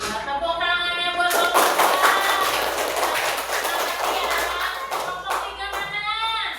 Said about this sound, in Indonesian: Tepuk tangannya buat